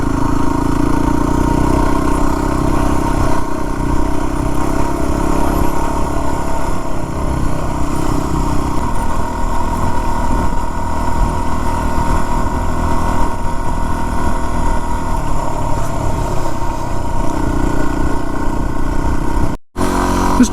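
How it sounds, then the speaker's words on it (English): A Yamaha WR250-R dirt bike engine runs hard at high revs on a Memorial Day trail ride in North Routt, a loud, close, continuous buzzing drone that holds steady before a brief dropout near the end. "This WR250, this is one of the bikes you always keep the engine pretty revved."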